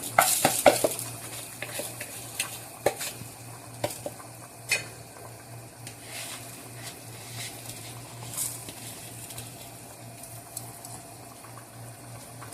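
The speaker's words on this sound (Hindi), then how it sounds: "तो अभी हम इसमें फाइनल जो है वो डालते हैं चावल" Rice tipped into boiling mutton yakhni stock for pulao, with a burst of pouring and splashing at the start, then steady bubbling, scattered stirring taps and a low constant hum.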